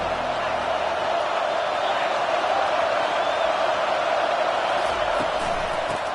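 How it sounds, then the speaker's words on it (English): A football stadium crowd roars in a steady, loud, continuous wash of noise during a college game, with no distinct peaks, while a broadcaster talks over it. "Listen to this crowd just shaking the girders of this place"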